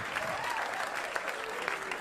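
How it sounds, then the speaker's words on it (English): A comedy club crowd at Gotham applauds a stand-up set, sustained clapping with a few sharper claps standing out and faint voices underneath. "clap for Tim Meadows, everybody"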